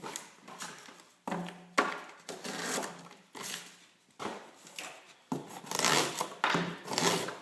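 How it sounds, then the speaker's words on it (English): A CTS-XHP steel knife chops through cardboard with diagonal strokes, giving a series of close, scraping, crunching bursts in an uneven rhythm with short pauses between them. "The best way I found to cut cardboard is similar to the way you chop wood, is with diagonal cuts"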